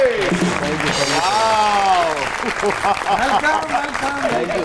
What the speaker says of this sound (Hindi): तो आपकी बहुत सी तालियों में the one and only मिनाइल Malik and Haris Ali.